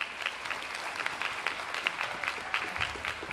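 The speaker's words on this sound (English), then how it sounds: "Can you give them another round of applause" An audience applauds school choirs of young primary pupils at a school instrumental concert, a steady, dense patter of many hands clapping throughout at moderate loudness.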